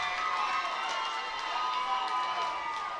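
At a mixed martial arts event, a crowd cheers and roars steadily for a fighter walking out to the cage. The sound is a dense, continuous wash of voices at moderate distance, with an announcer talking over it.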